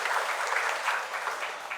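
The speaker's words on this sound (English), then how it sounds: "Big round of applause for him." Audience at a Teachers' Day celebration at Don Bosco Higher Secondary School in Dimapur claps for a teacher, a brief burst of steady, moderately distant applause.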